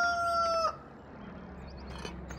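A farm rooster in Landwirtschafts-Simulator 2013 gives one loud, drawn-out crow that cuts off abruptly, followed by quieter farmyard ambience with a faint clucking hint near the end.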